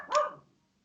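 A single short dog bark sounds close by and fades quickly, heard alone without any talking.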